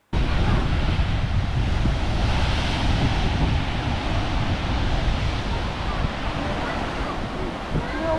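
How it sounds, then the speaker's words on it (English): Big Southern Ocean waves surge and crash through a gap between rock cliffs, a loud continuous roar of surf with heavy wind rumble across the microphone throughout. "it's pretty spectacular when you see the big waves crashing through it"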